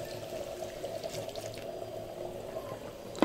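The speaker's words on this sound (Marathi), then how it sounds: "आता हे पाणी जे ठेवलेलं ते आपण टाकून घेऊयात" Water poured into a pot of crab curry with masala and ground paste, a steady close splashing pour running throughout with a small clatter near the end.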